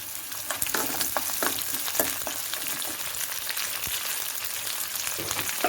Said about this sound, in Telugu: ఇవి కొంచెం వేగిన తర్వాత ఒక రెమ్మ కరివేపాకు వేసుకోవాలి